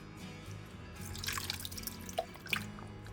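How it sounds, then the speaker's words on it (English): Bone broth is poured over chicken breast in a crockpot, giving a close, soft splashing and trickling of liquid with scattered drips and no voices. "I'm going to pour on the bone broth."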